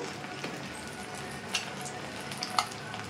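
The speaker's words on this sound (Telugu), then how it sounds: "ఇదే కడాయిలో కొద్దిగా ఆయిల్ వేసుకుని గుడ్డుని పగలగొట్టి ఈ విధంగా వేసుకుని" An egg sizzles in oil in a kadai, a steady close frying crackle with a few sharper pops and spatters, no talking over it.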